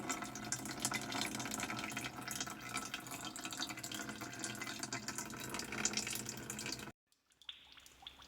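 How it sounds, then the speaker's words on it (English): Fluid drains slowly and steadily out of a downed coyote's body, a constant close trickling wash that stops abruptly near the end, leaving faint quiet. "It's been about 5 minutes and it just does not stop draining out of there."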